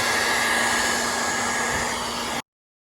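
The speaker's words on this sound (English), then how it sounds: "just to be extra safe, I get a hair dryer." A hair dryer blows hot air onto a freshly installed OEM window visor on a 2019+ Hyundai Veloster N, a loud, steady whooshing hum with a constant motor whine that stops abruptly after about two seconds.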